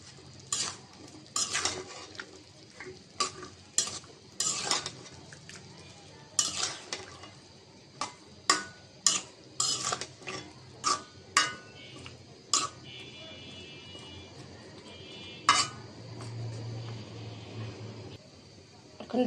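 Vegetables and tomato stirred together in a pan, with repeated sharp clinks of a metal spoon against the pan at an irregular rhythm over a low, faint background.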